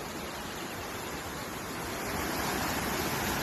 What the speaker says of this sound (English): look at this beautiful stream I found. Did you hear the water?